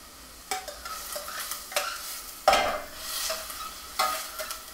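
Peppers, onions and zucchini sweating in a pan give a soft, low sizzle while a utensil scrapes and stirs in irregular strokes, close by and fairly quiet, with no talking.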